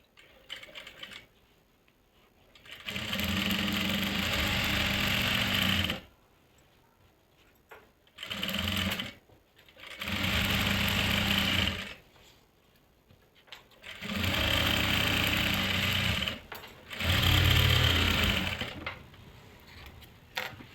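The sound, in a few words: sewing machine stitching salwar seam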